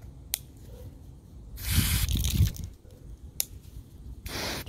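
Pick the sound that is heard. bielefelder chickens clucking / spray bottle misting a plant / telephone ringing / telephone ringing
spray bottle misting a plant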